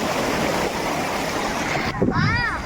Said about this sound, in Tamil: மெய்யூரில் வந்து இவ்வளோ தண்ணி போகுது